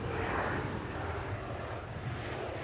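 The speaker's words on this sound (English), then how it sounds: "the 787 Dreamliner, the brand new one." A KLM Boeing 787 Dreamliner arrives at Schiphol on a windy day, its engines giving a steady, loud, broad roar mixed with gusty wind buffeting for the whole stretch.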